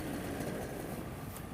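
A small paramotor engine runs steadily in flight over the sandy Oregon coast near Sand Lake, a smooth continuous drone mixed with wind rush, even in level throughout.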